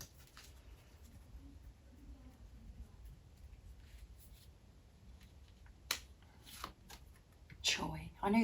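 Tarot deck being shuffled by hand during a card reading, soft quiet riffling and a few sharp card snaps and slaps near the end, with a low voice murmuring underneath.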